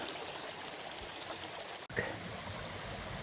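A small mountain waterfall and stream at Lumshory in the Ukrainian Carpathians rush in a steady, even wash of water, heard alone and fairly close throughout.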